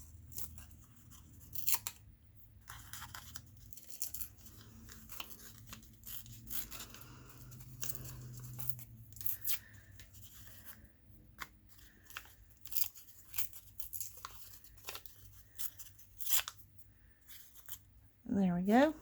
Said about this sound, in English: I do want to tear the edges on them